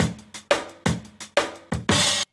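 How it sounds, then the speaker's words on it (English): An original drum breakbeat sample plays briefly, a few punchy kick and snare hits in a loose groove, loud and alone. "So you have the original break."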